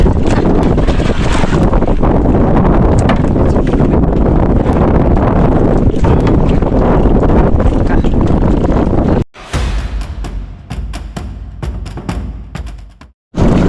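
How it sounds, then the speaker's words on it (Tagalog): Strong wind buffets the microphone in a loud, constant roar, then drops off abruptly near the end, leaving gusty rustling before cutting out. "kalakas na ang hangin"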